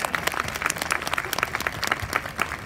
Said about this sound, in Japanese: 改めまして大きな拍手をお送りください